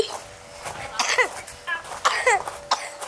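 A child coughs close by in several short, rough bursts spread unevenly across a few seconds, with faint breathy sounds between them.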